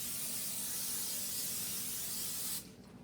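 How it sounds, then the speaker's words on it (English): A steady hiss of aerosol cooking spray onto a baking sheet runs for a couple of seconds, close and clear, then cuts off abruptly. "I'm going to put a light coat of cooking spray on there."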